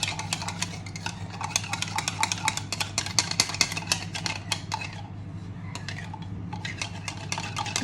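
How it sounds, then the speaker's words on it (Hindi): A spoon stirring milk into a mixture in a bowl makes rapid, repeated metallic clinks and scrapes close by, steady over a low hum, with a voice speaking briefly. "3 टेबलस्पून इसमें डालनी है दूध की और इसको अच्छे से मिक्स करना है।"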